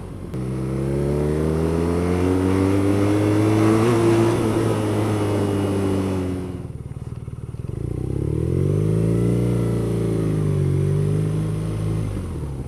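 A 2014 BMW R nineT motorcycle with its stock exhaust revs close by, a loud deep rumble rising and easing, dipping briefly, then climbing again in a second sustained rev.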